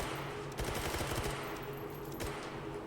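AK-12 prototype rifle fire with 20-round magazines in a video game match, rapid bursts crackling over a dense, steady mix of game noise, close and loud throughout.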